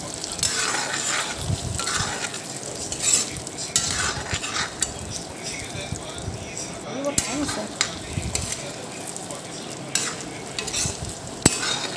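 Potatoes stir-fried with onions in hot oil sizzle steadily while a utensil scrapes and stirs the pan with irregular clatters, close and moderately loud throughout, with no talking.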